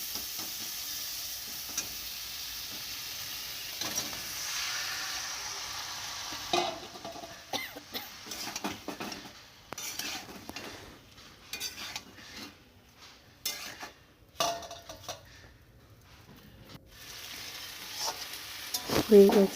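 Vegetables are stirred into leftover fish-frying oil with chili paste, chili powder and spices for a village chorchori, a steady soft sizzle broken by irregular scraping stirs and clinks of a utensil against the pan.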